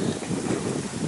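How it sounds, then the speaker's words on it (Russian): Wind buffets the microphone in a garden before rain, a steady low rumble, continuous and fairly loud, with no other clear sounds. "Ой, поднялся ветер."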